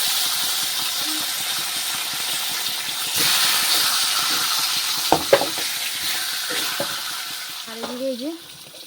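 Fish sizzles steadily as it fries in a pan at home, a loud continuous crackle with a few sharper pops and stirring scrapes, and a brief voice-like tone near the end.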